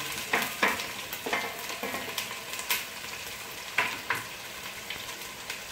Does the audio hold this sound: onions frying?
yes